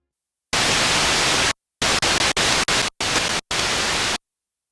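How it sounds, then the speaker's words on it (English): Bursts of harsh, hissing white noise from a Sequential Prophet 5 synthesizer's noise source switch on and off abruptly, one long burst followed by several shorter chopped ones, with silence between. "We will turn up our noise in the mixer, which is the same sound regardless of the key that is pressed."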